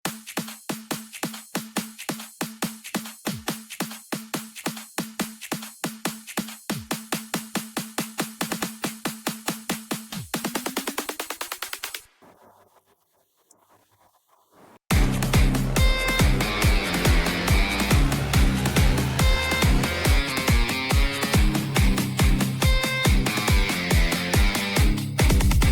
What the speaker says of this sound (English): Finally, we're going to have a build-up loop section, which helps create more excitement and anticipation as the music progresses.